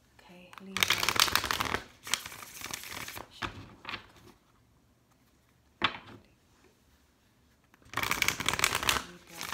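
A tarot card deck shuffled in loud bursts of riffling, with long rustling spells early and late and a quieter stretch in between; a person speaks over parts of it.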